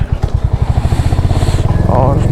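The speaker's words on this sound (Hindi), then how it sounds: "और करते हैं बाइक को पार्क" A Royal Enfield Hunter 350 single-cylinder engine thumps in a fast, steady rhythm while being parked, loud and close, with a voice speaking briefly over the engine near the end.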